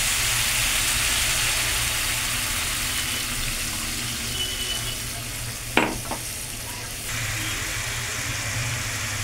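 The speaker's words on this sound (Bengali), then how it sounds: "আমি মশলার মধ্যে জলটা এখন ঢেলে দেবো।" Warm water poured into spiced masala frying in a pan, a continuous loud sizzle with a sharp splash partway through, then sizzling again.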